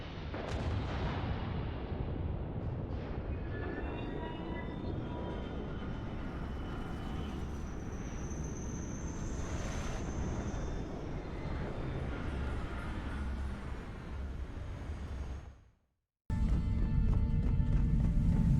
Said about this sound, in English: I heard another noise, and I looked up and I saw that there was a third ship landing.